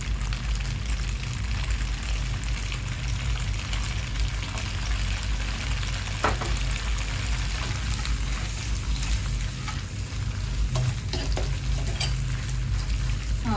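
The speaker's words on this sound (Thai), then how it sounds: "เราผัดไปให้เส้นเขานุ่มนะคะ" Rice noodles with soy sauce stir-fried in a hot wok for a Thai seafood rad na: a steady, loud, close sizzle and crackle with scraping stir strokes, continuous throughout with no talking.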